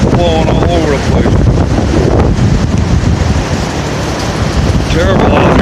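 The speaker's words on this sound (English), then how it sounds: "the wind is terrible" Strong wind on a rainy mountain slope roars and buffets the microphone continuously at high volume, a dense rushing blast with no breaks.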